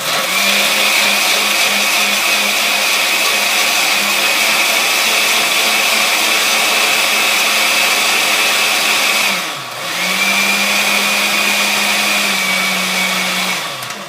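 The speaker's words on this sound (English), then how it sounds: "We're just going to add it here, and we're just going to puree it for about" A glass jar blender purees barley corn soup at a loud, steady motor whine for about nine seconds, dips briefly, then roars again for several more seconds.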